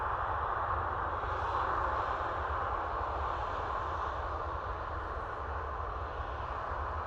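Jet aircraft arriving at Manchester Airport, a continuous broad roar heard from outside that rumbles steadily and loudly without any voices.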